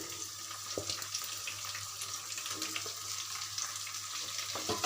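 Eggs fry in a pan with cloves, mace, cardamom and bay leaf for egg korma, a faint continuous sizzle with occasional light taps, quiet and even throughout.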